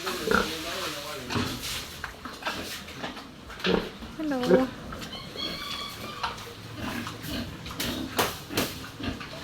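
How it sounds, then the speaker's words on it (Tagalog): Pigs, a sow among a few others on a backyard farm, grunt and squeal in short bursts at close range while a person speaks and greets nearby, with occasional clatter. "5 baboy po, tapos mama po may isang inahin"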